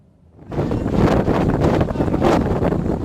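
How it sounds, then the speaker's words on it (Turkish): Strong snowstorm wind in Karlova, Bingöl roars and buffets loudly against the microphone, rising suddenly after a quiet start and gusting continuously. "tek duyulan rüzgarın uğultusu"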